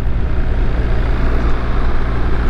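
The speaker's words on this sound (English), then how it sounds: "I am on my dad's 2019 BMW R1250GS" Steady, loud rumble and wind roar from riding a 2019 BMW R1250GS motorcycle, continuous and close, with no breaks.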